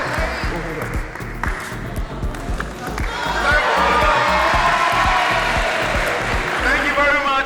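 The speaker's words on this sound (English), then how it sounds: "round of applause for them!" Live audience at a Valentine's speed-dating event breaks into applause and cheering, a dense crowd wash with whoops over a steady low beat of background music, building louder through the second half.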